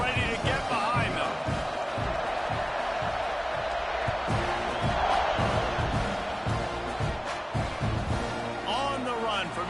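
A football stadium crowd at a South Carolina vs Texas A&M game roars continuously at kickoff, a dense, sustained wall of cheering with scattered whoops, and a commentator talks over it.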